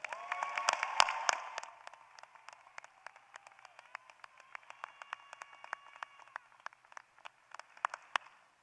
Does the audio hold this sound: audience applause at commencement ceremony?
yes